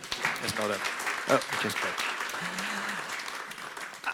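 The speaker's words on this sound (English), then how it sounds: "And a round of applause" A panel discussion audience gives a round of applause, a soft steady clatter of clapping running under a man's brief spoken remark and another voice.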